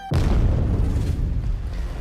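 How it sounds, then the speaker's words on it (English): A massive explosion goes off in the video game Girls' Frontline 2, starting with a sharp blast followed by a heavy, sustained low rumble that slowly fades over about two seconds, loud and with no voices. "Suddenly, there's a massive explosion from the outside."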